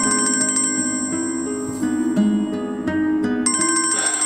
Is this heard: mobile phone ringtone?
yes